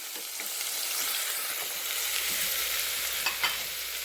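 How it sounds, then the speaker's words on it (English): Carrots sauté with garlic and fresh parsley in a pan for an Italian-style sausage soup, giving a steady, close sizzle and frying hiss throughout, with a few soft stirring clicks near the end. "So now I'm sauteing the carrots, and I put fresh parsley,"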